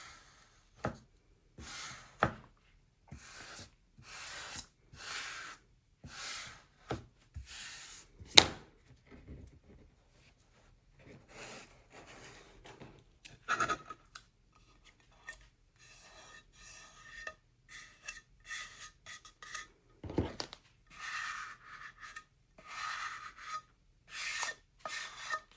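A spatula rubs and scrapes over decoupage paper on a glass IKEA lantern in short, irregular strokes, close and quiet with pauses between passes, and no one speaks.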